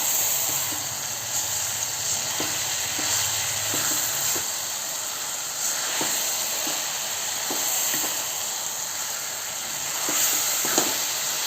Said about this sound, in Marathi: 2 मिनिटं कोथिंबीर तेलामध्ये छान परतून घ्यायची आहे.